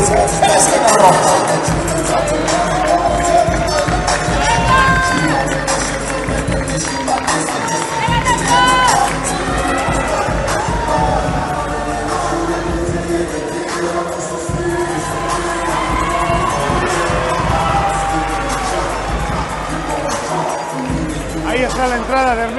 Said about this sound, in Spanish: Fuerte aplauso para Ernesto Ato, de Lima, Perú, en esquina roja.